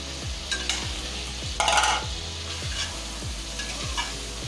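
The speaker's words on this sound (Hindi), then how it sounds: "मसाला तैयार हो चुका है, अब आपसे गोश्त डाल रही हूँ।" Meat going into hot, ready masala and being stirred, a close sizzle with repeated scraping sweeps of the spoon and a brief louder splash of frying midway.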